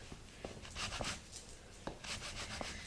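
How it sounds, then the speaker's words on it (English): A pastry scraper cuts through dough on a work surface, giving soft scraping and rubbing strokes with a few short taps as the blade meets the board, quiet and close. "I'm just going to use my pastry scraper here. Cut the dough in half."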